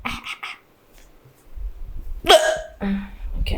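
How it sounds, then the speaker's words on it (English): A string of sharp, voiced hiccups, a few short bursts early on and then a louder cluster of jerky catches near the end, heard close up with no talk over them. "Okay, hiccups."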